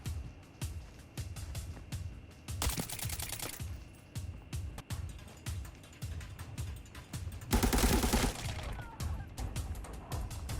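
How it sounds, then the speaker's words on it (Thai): Gunfire in the video game Arena Breakout rattles in rapid automatic bursts, with scattered single shots and clicky movement sounds in between, moderately loud throughout. "ตอนแรกผมก็ได้ยินเสียงปืนอยู่ครับ"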